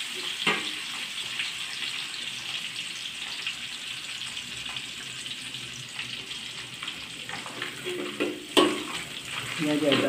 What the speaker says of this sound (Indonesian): Kita gorengkan dulu seperti ini.